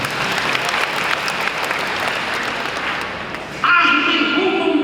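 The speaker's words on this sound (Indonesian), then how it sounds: "Tepuk tangan untuk mereka." Audience applause at a church sermon rises into a loud, sustained burst of clapping near the end, following a quieter stretch of crowd noise.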